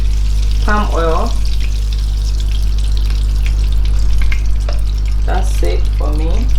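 Palm oil frying in a pot for ogbono soup, a loud continuous sizzle with a strong low hum beneath it, while a voice speaks briefly in a few short bursts.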